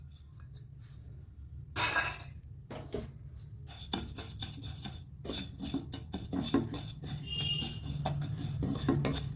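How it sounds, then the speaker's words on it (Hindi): Ajwain seeds are roasted and stirred in a kadhai for homemade pickle masala, with a metal spoon scraping and clinking against the pan in quick irregular strokes, close and fairly quiet. "अब मैं अजवाइन डाल रही हूँ।"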